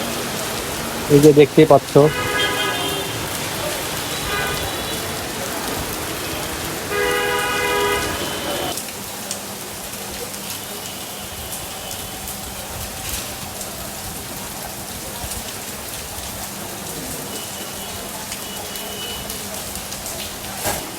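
Steady rain falls throughout on a cool, gloomy day, a constant soft hiss that continues after someone speaks briefly over it near the start.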